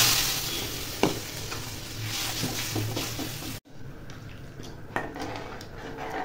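Water goes into a frying soybean kofta gravy with tomato sauce: a loud continuous sizzle with occasional utensil knocks, then a sudden break and a softer, quieter bubbling simmer.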